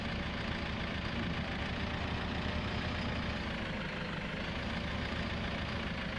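Harvester engine idling in a farming video game, a continuous, even low rumble with no other sounds, moderately quiet.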